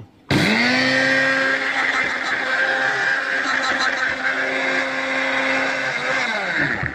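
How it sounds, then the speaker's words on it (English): A coffee grinder kicks on abruptly and whirs loudly and steadily for several seconds as sesame seeds are ground, a high buzzing motor drone with no pauses. "I've put the sesame seeds in the coffee grinder, and now let's grind it."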